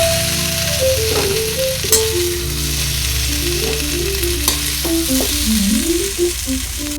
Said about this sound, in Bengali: হালকা করে একটু ভাজা করে নেব সবজিটা